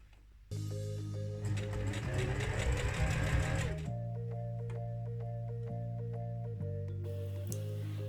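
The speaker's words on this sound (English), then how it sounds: "I am trying to get as much of this circle here sewn as possible on the machine, just to minimise the hand sewing" A sewing machine stitches fabric in short runs, whirring fast and loud for a few seconds and then slowing to a steady, lower hum with brief pauses, with no talking.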